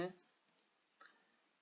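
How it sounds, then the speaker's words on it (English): A single soft computer mouse click, brief and faint, followed by a couple of tiny quieter clicks in an otherwise quiet room. "So right click on this light bulb icon"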